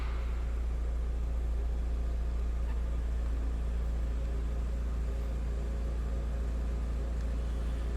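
A 2000 Volkswagen New Beetle idling, heard from behind the car as a steady, quiet, low engine hum with faint hiss and no voices.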